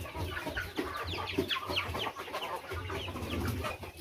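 Pet chickens and chicks cluck and peep close by after being fed, a dense, continuous flock chatter with soft low clucks under higher chirps.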